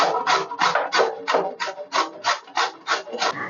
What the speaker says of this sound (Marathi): आता आपण ही किसून घेऊ.